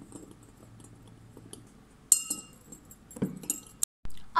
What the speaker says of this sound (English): Stir each of the mixture for 20 seconds.